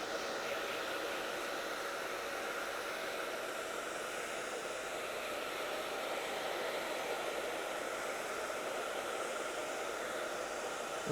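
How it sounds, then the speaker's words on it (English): A hair dryer set to high heat and medium speed blows steadily while a soft mullet haircut is styled, a loud continuous whooshing hiss close by that holds unchanged throughout with no talking. "I have this dryer on high heat but a medium speed so it doesn't blow around much"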